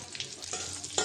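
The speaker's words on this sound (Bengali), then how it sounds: "পেঁয়াজটা একটু হালকা করে ভেজে নেব।" Chopped onion and green chilli hit hot oil in a wok-style pan, a close, brief burst of bright sizzling with a stir at the end and no talk.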